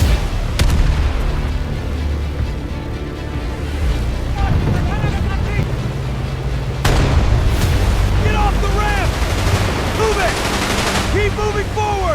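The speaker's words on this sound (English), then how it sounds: "His artillery guns really did fire that morning." Artillery guns firing during the D-Day battle, loud booms and crackling gunfire filling the scene continuously, with voices and battle noise mixed in.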